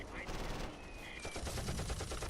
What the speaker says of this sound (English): Soviet machine gun.